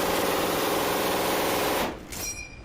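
An MG42 machine gun firing at its true rate, a continuous rapid tearing burst that runs loud and unbroken for nearly two seconds before cutting off into a short echoing tail.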